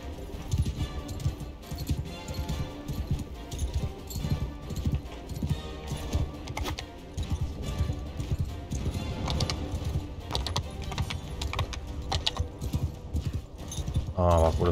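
Horse hooves clip-clop steadily through a town in the video game Mount & Blade II: Bannerlord, a brisk rhythmic gait running throughout with game ambience and someone talking over it.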